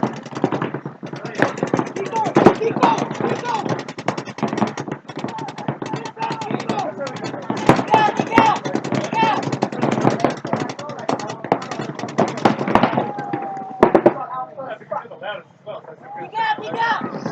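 Paintball markers fire in rapid, dense volleys throughout a speedball match at an SPS500 tournament event, with sharp popping bursts layered under continuous live commentary.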